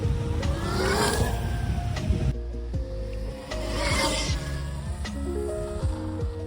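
A Rawr Mantis X electric dirt bike running, with a whining electric motor that rises and falls in pitch through two surges, over a steady low rumble and rubbing noise up close.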